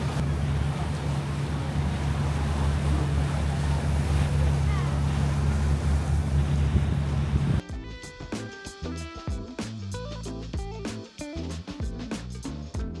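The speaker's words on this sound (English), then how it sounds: "you just gotta appreciate being out on the ocean" Motorboat out on the ocean, engine droning steadily under wind and waves for several seconds before cutting abruptly to clattering, choppy background noise.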